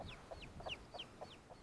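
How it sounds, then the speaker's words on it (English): A broody hen with her little chick clucks softly in a rhythmic run of about six short calls, faint and close, with chick-like high chirps mixed between them. "And this is our broody hen"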